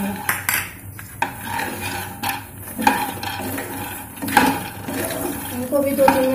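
Cashews and coconut are stirred and roasted in a pan, with repeated scraping and clinking of a spoon against the metal and a soft sizzle, while a voice talks intermittently.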